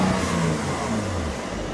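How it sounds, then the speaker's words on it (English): A 2020 Mercedes-AMG GLC 43 Coupé 4MATIC exhaust drones with a steady engine note, rising and falling slightly as it revs, heard from inside the car at moderate volume with no talking. "Let's hear some exhaust noise."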